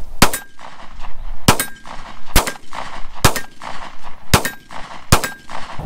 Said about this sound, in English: We're gonna put 6 rounds down range on the steel silhouette.